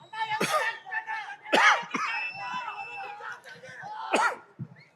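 Several sharp coughs from a person at a film pre-release event for Ustaad Bhagat Singh, spaced out over a few seconds, close to the microphone, with voiced sounds and a steady tonal hum in the hall behind them.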